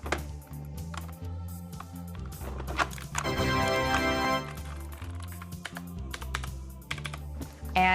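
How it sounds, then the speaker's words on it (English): A retrocomputer keyboard is dropped into a 3D-printed keyboard holder, producing a run of close, clattering plastic taps and knocks with a brief louder ringing rattle in the middle. "Finally drop the keyboard into the keyboard holder."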